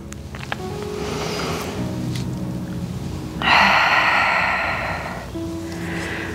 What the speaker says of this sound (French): On respire à nouveau.